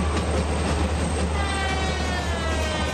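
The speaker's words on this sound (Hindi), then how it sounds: "एक ट्रेन हॉर्न मारते हुए क्रॉस की, कितना मस्त लग रहा था यार।" A passing train in the MSTS train simulator game on an Indian rail route makes a steady, loud rumbling roar with faint clatter throughout. Any horn blast sits low within the dense mechanical noise.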